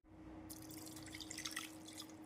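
Water poured over spiced mutton in a cooking pot for Madurai-style mutton sukka, a quiet continuous splashing trickle that starts abruptly and runs steadily for about two seconds.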